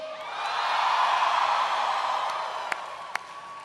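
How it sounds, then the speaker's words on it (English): A large crowd at a Florida Memorial University rally applauds and cheers for Dominique, a broad sustained roar of clapping and voices that swells and slowly fades, with a couple of sharp claps near the end. "Can everybody please give a big round of applause to Dominique?"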